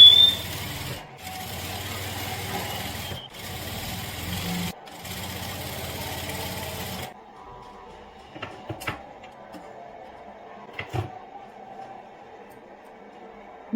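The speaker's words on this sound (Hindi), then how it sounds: "तो चलिए स्टिचिंग शुरू करते हैं।" A sewing machine stitches the crotch seam of a loose-fit palazzo, running steadily and close for several seconds with two short pauses, then stops, leaving faint handling noises.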